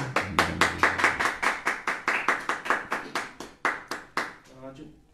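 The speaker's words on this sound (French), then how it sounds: "Applaudissez le Seigneur bien fort." A church congregation claps in unison for the Lord, about twenty sharp, rhythmic claps at a steady quick tempo, loud and close, trailing off at the end.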